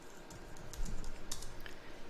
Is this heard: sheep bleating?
no